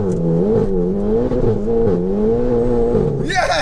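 A 620 bhp fully forged front-wheel-drive Golf GTI Clubsport launches hard with traction control off, its engine loud and close, revving and climbing through gears with harmonic rises and dips before a sharp burst of tire and engine noise at the end.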